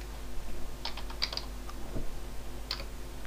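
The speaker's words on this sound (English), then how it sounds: "I could just go here and I could type" Soft, quick keystrokes on a computer keyboard, a short burst of light clicks over a steady low hum, fairly quiet and close.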